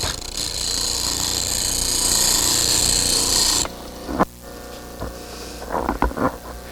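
A power tool grinds a flat edge on a woodworking tool, giving a loud, steady high-pitched grinding whine for nearly four seconds. It then stops, leaving quieter scraping and knocks.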